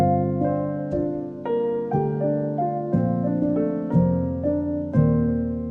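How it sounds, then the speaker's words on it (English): A lo-fi beat intro: a piano plays a chord progression, one chord struck roughly every second and left to decay, with lighter melody notes in between. "Now the piano lead with the chord progression will sound like this."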